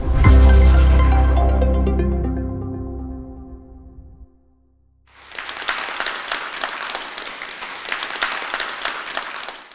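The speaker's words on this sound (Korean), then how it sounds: "여러분 박수 부탁드립니다." At a public lecture, a ringing, sustained musical tone slowly decays into a brief silence. Then a lecture audience breaks into steady, full applause that keeps a dense, even texture to the end.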